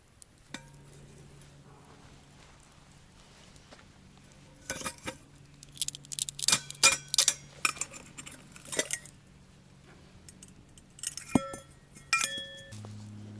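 Dry pasta tipped into a metal billy can at a camp, giving bursts of bright clinks and rattles, close and clear, with quiet stretches between and no talk.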